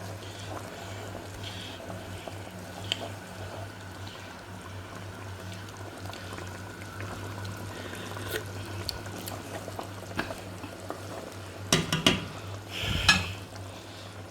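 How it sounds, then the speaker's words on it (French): Veal stew being stirred in a pot, with a steady low simmering hiss throughout and a burst of louder scraping and clinking of the utensil against the pot near the end. "Je mélange bien."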